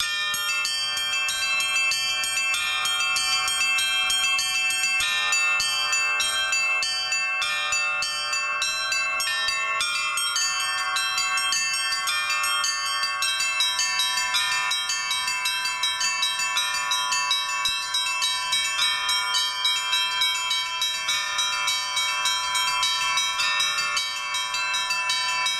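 Church bells of the Litex and N. Shuvalov foundries ring an Optina chime pattern, a steady, dense, continuous peal of overlapping bright strikes and sustained ringing tones across the whole span, loud and without voices.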